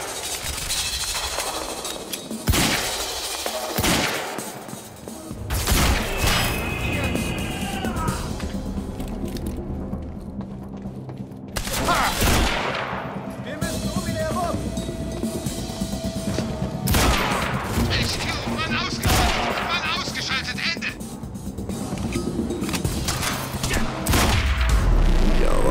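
Gunfire bursts and clattering volleys from a shootout in the game Quantum Break, with sharp repeated shots through a dense, busy game mix with music and effects, and brief voices in places.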